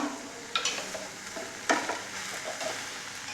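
Grated coconut is mixed with salt by hand for a nettle leaf thoran, making faint, soft scrapes and rustles with a few sharper touches in a quiet room.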